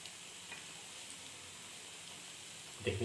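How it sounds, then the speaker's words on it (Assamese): Pakora frying in a pan, a steady soft sizzle and hiss close by, with a few light stirring clinks near the end. "এনেদৰে মই 5 মিনিটমান ফ্ৰাই কৰিম ভালকৈ।"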